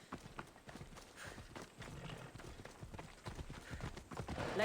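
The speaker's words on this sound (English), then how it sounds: "Call for my horse." Horse hooves gallop in a steady, rapid clip-clop rhythm in a video game, close and fairly loud, continuing throughout with faint background game ambience.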